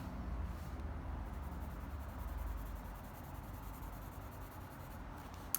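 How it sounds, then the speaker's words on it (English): The side of a pencil scratches steadily across paper up close, shading a drawn sphere, a continuous soft rasp of shading strokes that fades slightly toward the end. "using the side of your pencil, and I'm pushing that shading up towards that lightest area."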